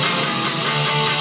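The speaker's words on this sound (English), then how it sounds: "don't keep hitting that open 6th string the whole time" Electric guitar chugging steadily on a palm-muted open sixth string in a heavy riff, with dense distorted tone and a low drone repeated throughout a short, loud burst and no voice.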